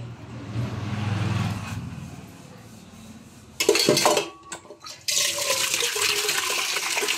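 A metal pot clanks, then water gushes and splashes into it in two pours, filling it for heating, with low background noise before.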